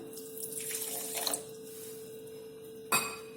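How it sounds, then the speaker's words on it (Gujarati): Water runs steadily from a tap into a pan of sugar, a continuous splashing rush lasting a few seconds, ending with a brief clatter. "હવે આપણે આ ખાંડ ડૂબે તેટલું જ પાણી આપણે અંદર રેડીશું"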